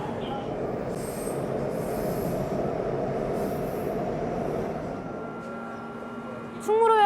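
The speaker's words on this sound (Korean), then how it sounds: "지금 지하철이 들어오고 있는데요." A Seoul subway train pulls into the station, with a steady loud rumbling roar of wheels on rails and a high squeal rising near the end as it brakes; faint talk is present.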